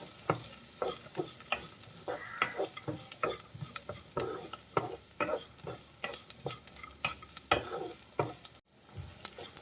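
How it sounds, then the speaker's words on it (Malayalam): Coconut pieces and turmeric stirred in a pan for Kerala-style beef ularthiyathu, a steady run of soft scrapes and clicks over a faint sizzle, close and quiet throughout with no speech. "നന്നായിട്ടൊന്ന് ഇളക്കി കൊടുക്കാം"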